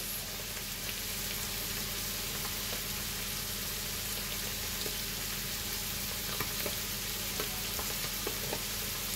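Mushrooms fry in a pan with a spoonful of soy sauce, a steady close hiss and crackle running the whole time, with faint scrapes and taps from stirring and no voices.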